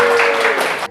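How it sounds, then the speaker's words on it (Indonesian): Students in a classroom clap together in a short, dense burst of applause that stays loud and fairly even before cutting off abruptly. "Sudah selesai, tepuk tangan dulu."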